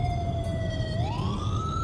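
A police car siren wails loudly and close by in one continuous tone that glides upward partway through, over a steady low road rumble.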